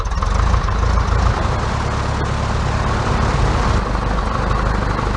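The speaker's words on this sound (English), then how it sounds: "So let me go ahead and start the engine" Evektor Sportstar light aircraft engine in the GeoFS flight simulator, running at a steady, loud, continuous idle with a low droning rumble and no voices.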